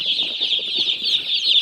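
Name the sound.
farm chicks in a brooder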